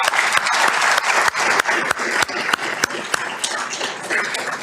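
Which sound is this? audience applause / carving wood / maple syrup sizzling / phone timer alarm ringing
audience applause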